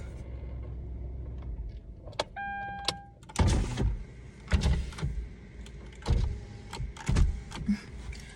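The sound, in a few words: car being turned off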